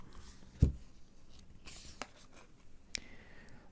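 A fortune-telling card is drawn from a cartomancy deck, heard as soft, close, sparse paper taps and brushes: one firmer knock, a light swish and a few faint clicks over near silence.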